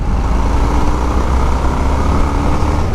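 Dense, steady engine roar from a 2021 Harley-Davidson Sportster S on a demo ride, loud and close with wind rush mixed in, holding a fairly constant pitch as throttle is applied.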